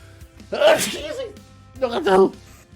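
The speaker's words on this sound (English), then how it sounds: "Ooh, I got a sneeze coming on. It's gonna happen." A single sneeze bursts out during a gaming session, loud and close, followed a moment later by a second breathy vocal burst.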